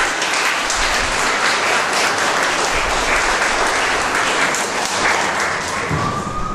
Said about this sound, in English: let's give a round of applause and welcome Matt